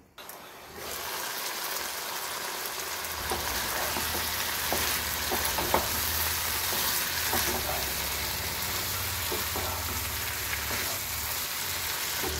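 Cauliflower curry with ginger, garlic, cumin and coriander powder cooks in a covered pan, a continuous close sizzle and bubbling hiss over a low steady rumble, with faint clicks and no voices.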